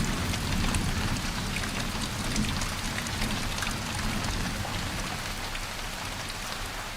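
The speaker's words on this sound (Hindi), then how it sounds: "फुहारें अक्सर देर तक बरसती हैं और फिर पूरे धमाके के साथ घटाएं खूब" Heavy rain pours down steadily in the Amazon rainforest, a dense, even hiss of drops on foliage with a low rumbling undertone, continuous and close without any voices.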